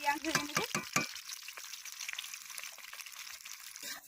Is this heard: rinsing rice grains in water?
yes